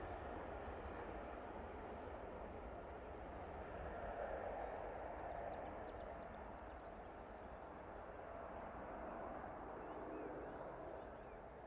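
An Etihad airliner rolling for takeoff at Manchester Airport, a faint, distant, broadband engine roar that swells gently and holds steady.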